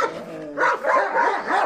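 An American pit bull terrier gives a quick series of close, loud barks and yips, about four or five sharp bursts in under two seconds, with no talking.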